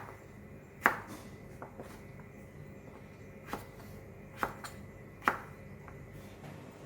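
A knife slices a pumpkin into thin pieces for a Thai steamed pumpkin custard, giving four or five sharp, separate cutting knocks spaced a second or more apart, with quiet kitchen background between them.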